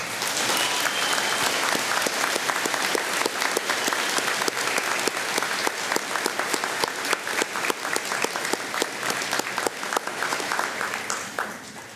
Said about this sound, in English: Please join me in a round of applause for the class of 2025.